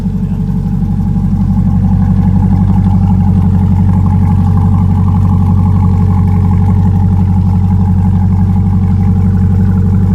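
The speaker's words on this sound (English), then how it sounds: "She's got a nice idle to her. Yeah. Nice rumble." A Corvette C8 Z06 fitted with a center exhaust idles close by, giving a loud, steady, deep rumble with a fine pulsing throb that holds evenly throughout and no voices over it.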